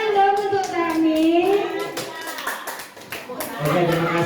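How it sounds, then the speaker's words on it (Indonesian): A class of schoolchildren claps hands together in a steady patter of many hands, with a clear voice speaking over the applause near the start and children's chatter mixed in throughout. "Akan tepuk tangan dong untuk kami"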